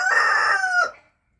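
A rooster gives a single loud, close cock-a-doodle-doo crow lasting about a second, then it cuts off to silence.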